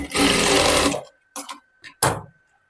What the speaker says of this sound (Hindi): ये जो हमारा धागा कट गया है तो एक बार यहाँ पे सिलाई लगा दूंगी।